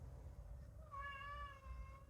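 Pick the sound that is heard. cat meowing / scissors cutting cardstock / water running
cat meowing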